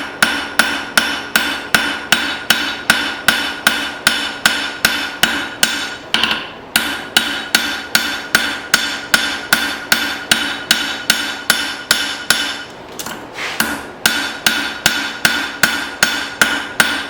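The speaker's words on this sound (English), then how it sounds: "I'm going to forge this into somewhat of a taper." A hammer forges a file into a taper on an anvil, striking loud, ringing blows in a steady, rapid rhythm, with two brief pauses.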